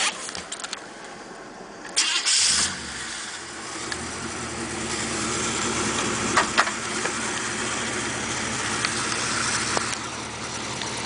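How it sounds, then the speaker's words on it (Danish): A Chevrolet El Camino fitted with a 5-liter Chevy engine cranks briefly and fires up, then settles into a steady running rumble with a few clunks and rattles nearby. "Den kører og starter som den skal."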